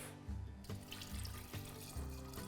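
Water is poured into a glass or pitcher while masala chaas is being made, a steady splashing stream broken by soft thumps, faint and continuous throughout.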